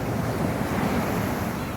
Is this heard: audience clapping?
no